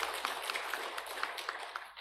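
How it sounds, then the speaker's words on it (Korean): Faint applause from a church congregation after a Sunday morning scripture reading, a soft, even patter of many hands clapping with a few slightly rhythmic peaks, heard from a distance. "이 하나 찬양을 받으신 하나님께 영광의 박수를 올려드리겠습니다"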